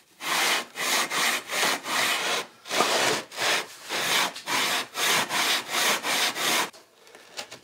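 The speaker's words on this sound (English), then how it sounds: "I need to rub along these faces and mate these faces together." Bricks rubbed face to face to mate them for building a heat treat oven, giving a loud, close, rhythmic gritty scraping in about a dozen even back-and-forth strokes, with no talk.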